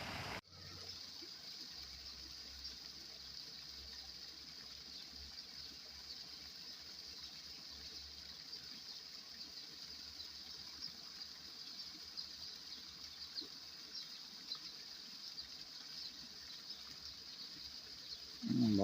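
Water pouring from falls on a branch of the Nile, a constant broad rushing roar heard from nearby, steady throughout with no voices.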